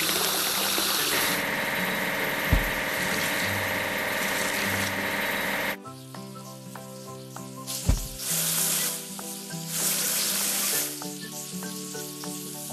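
Water spraying over a dining car during a washing task in a kids' train-building video game, a steady hiss that runs continuously over the game's background music with a couple of brief knocks.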